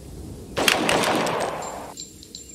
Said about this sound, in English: Wait, are you shooting at me?